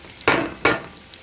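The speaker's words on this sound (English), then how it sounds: "Now I'm going to add my sofrito." Sofrito hits a hot frying pan in two quick bursts of loud sizzling, each flaring sharply and then fading into a softer crackle.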